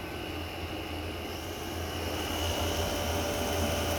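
A Chinese diesel heater runs steadily, its fan blowing out heat with a constant whirring hum and low motor drone, moderately close and unbroken, no voices.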